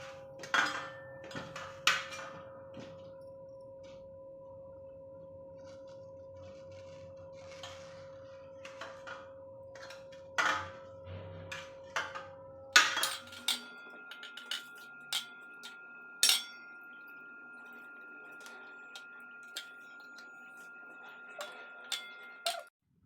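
Knife tapping and clicking against a cutting board while ripe mangoes are cut up for traditional aamras, a sparse run of light sharp knocks over a faint background hum.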